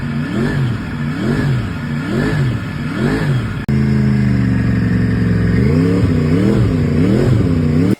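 A Yamaha YZF-R6 600cc supersport motorcycle fitted with a crossplane crankshaft engine revs repeatedly in rhythmic rising and falling blips, then holds a loud, steady high-rpm note before dropping into more revs and cutting off sharply at the end.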